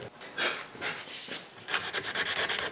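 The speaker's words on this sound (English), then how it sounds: "To make sure the new glue will not have adhesion problems, I completely sand away the old glue." Sandpaper rubbed over an old wooden chair to strip dried glue, a soft close scratchy rasp in short back-and-forth strokes with brief pauses, fairly quiet and with no voices.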